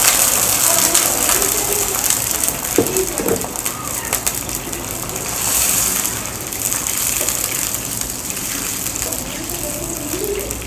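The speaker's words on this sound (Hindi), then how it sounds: "अब पानी डालेंगे तकरीबन आधा किलो" Water poured into a pot of vegetable rice with peas and carrots, a steady gushing pour lasting several seconds, fairly close, with faint bird chirps in the background and no talk.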